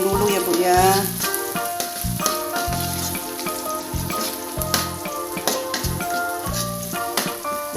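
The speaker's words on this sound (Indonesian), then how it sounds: "Bawang merah, bawang putihnya goreng dulu ya bu ya." Shallots and garlic sizzle and crackle in hot oil for fried rice, with a spatula stirring and scraping against the pan in rhythmic strokes.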